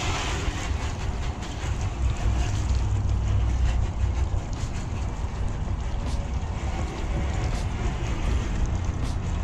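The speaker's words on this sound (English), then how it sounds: "Now what you're gonna do, you just wanna hose it off" Hose water spraying over a car's exterior, a continuous broad hiss with a low rushing rumble that holds steady for several seconds, no talking.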